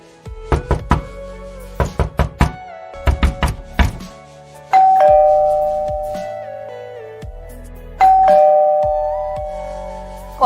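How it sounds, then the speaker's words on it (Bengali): A doorbell rings in two loud two-tone ding-dong chimes with ringing decay, preceded by bursts of sharp, insistent knocking on a door, all clear and close in a quiet room. "কলিং বেল আর দরজার ধাক্কানায় ঘুম ছুটে গেল"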